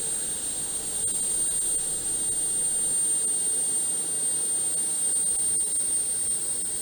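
A loud, steady J57 jet engine roar on an F-100 Super Sabre being air-started by an MA1A start cart, with a high-pitched whine holding constant throughout, dense and unbroken.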